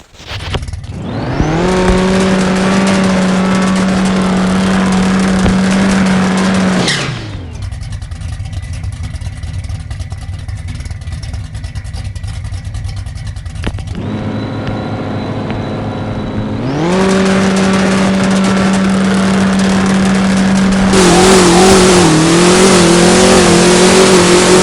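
A drag race car engine in the No Limit Drag Racing 2.0 video game revs hard and holds a loud, steady drone, drops off, then climbs back through several rising pulls as the run continues.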